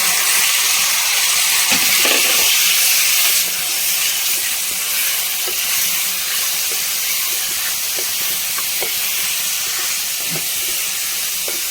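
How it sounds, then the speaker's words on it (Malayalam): Marinated chicken dropped into a hot pan gives a loud, steady sizzle and hiss that runs the whole time, slightly louder in the first few seconds, with no talking. "നമ്മൾ ചിക്കൻ ഡയറക്റ്റ് ഇതിലേക്ക് ഇട്ട് കൊടുക്കുകയാണ് മാരിനേറ്റ് ചെയ്ത ചിക്കൻ"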